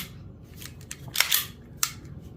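Dry-fire trigger click of an empty, unloaded Taurus TX22 pistol with the magazine removed: a few small, sharp, close mechanical clicks, one crisper snap standing out, with no voices.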